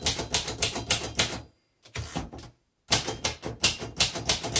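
A 1935 Royal Model O manual typewriter typed on up close: brisk, rhythmic key strikes in rapid bursts, broken by two short pauses, with no talking.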